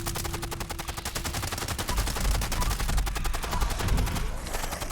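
A Gauss rifle in Fallout 76 fires a continuous string of fast, evenly spaced shots over a dense, noisy backdrop of combat that stays loud throughout.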